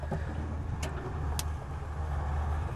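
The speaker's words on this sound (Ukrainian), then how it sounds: "уміло маніпулює двигунами та передачами машини, вибираючи кожен міліметр" Two-engine military vehicle maneuvering at a Dnipro river crossing: a steady, loud low engine rumble with a constant drone and a couple of brief sharp clanks.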